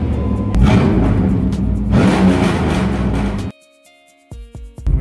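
A Camaro with an LT1 V8 revs loudly and close up in a sustained roar, then cuts off abruptly, leaving a couple of short blips and a quiet stretch at the end.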